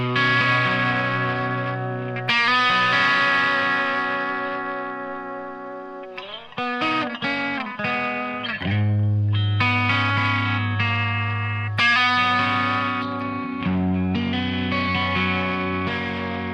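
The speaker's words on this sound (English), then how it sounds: "It is just the vibrato into the cassette setting on here." Electric guitar chords through a vibrato into a cassette effect, with a wobbling, warped vibrato and lo-fi tape-like character, played steadily and prominently with no talking.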